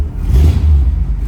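A 1939 Ford Deluxe Coupe engine catches and revs, a loud, low, steady rumble with a brief rise in the middle and a slight settling toward the end.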